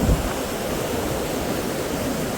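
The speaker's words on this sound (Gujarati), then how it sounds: "દિશાના પુલ ઉપર થી બકડાટી બોલતું પાણી જાય" Loud, continuous roar of rain-swollen river water rushing over a bridge, a dense broadband wash with no breaks, heard close by.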